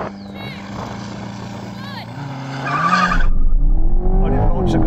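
A C8 Corvette launches in a drag race against a Ferrari 458 Speciale. The engine revs rise in pitch, then the tires squeal loudly in wheelspin as the sound swells, with someone talking over it.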